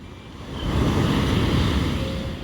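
Ocean waves surge and break close by on the beach at Digha, West Bengal, in a broad rushing roar that swells and eases, with some wind buffeting the microphone.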